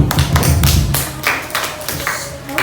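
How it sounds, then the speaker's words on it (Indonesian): Classroom applause for a student reader breaks out as scattered, uneven clapping and taps from several people close by, lasting a few seconds with no talk over it. "Tepuk tangan buat yang membaca"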